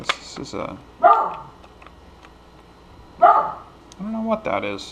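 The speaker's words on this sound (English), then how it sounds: "Dog next door is barking." A neighbouring dog barks in two short bursts in the background, while a person talks nearby during a power tool kit unboxing.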